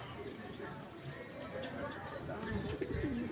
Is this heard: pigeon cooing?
yes